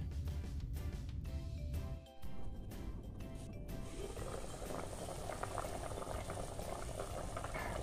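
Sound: pork sinigang simmering covered in a pot

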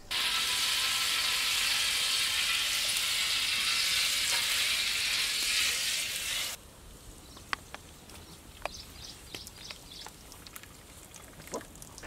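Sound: sizzling in hot oil and pure ghee

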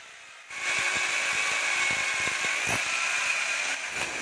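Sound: drill boring into Italian tile for toilet fitting

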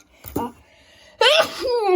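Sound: sneeze

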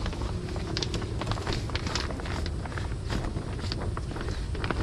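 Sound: wind

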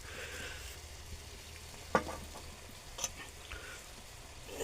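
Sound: soybeans with salt, masala and turmeric sizzling as added to pan

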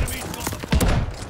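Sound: gunfire in a shooter video game

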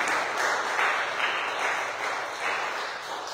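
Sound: congregation applauding and cheering

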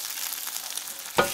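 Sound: eggs sizzling in a frying pan being scrambled

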